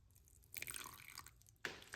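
Faint, close trickle and splash of water being poured onto a potted houseplant indoors, in two short pours with a brief pause between.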